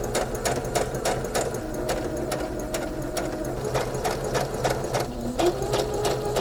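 A sewing machine runs steadily, topstitching 1/8 inch from the seams on both sides of a fabric hat with ears, a continuous close motor whir with rapid needle clatter and no talk.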